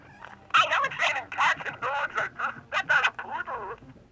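Slowly pulled 1988 Roger Rabbit pull-string toy voice box: a dragged-out, low, warbling voice phrase in choppy syllables, close and fairly loud for about three and a half seconds.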